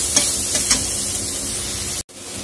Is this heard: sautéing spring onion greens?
yes